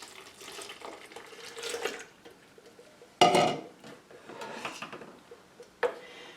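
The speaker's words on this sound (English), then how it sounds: "we're going to stir this around until the sugar is completely dissolved." A spoon stirring a cup of sugar into two cups of water in a pitcher or pot for strawberry-pineapple lemonade. It gives soft swishing and scraping with a few sharp clinks against the vessel, close by and fairly quiet, with no talking.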